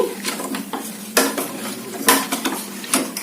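Thick ragi mudda mixture being stirred in a pot, with scraping utensil strokes and sharp metallic clinks against the pot in an irregular rhythm, close and clear with no talk.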